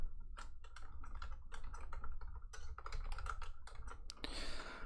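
Close, quick keystrokes rattle on a computer keyboard, an irregular burst of sharp clicks in short runs ending with a louder clatter, no talking.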